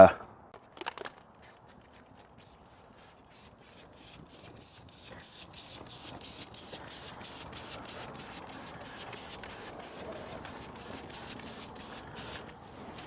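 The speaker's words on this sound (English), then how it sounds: "I'm also gonna spray the tires" Repeated short spray bursts of cleaner onto car tires in a quick steady rhythm, hissing close to the microphone after a couple of brief handling clicks.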